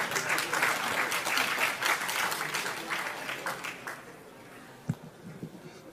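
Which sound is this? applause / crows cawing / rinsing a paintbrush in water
applause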